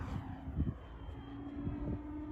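A Blade 700 RC helicopter engine runs at full throttle, a steady low droning whine with pulsing rotor throbs. It is moderately distant and continuous, and no one speaks over it.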